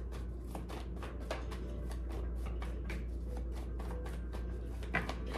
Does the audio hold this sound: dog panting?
no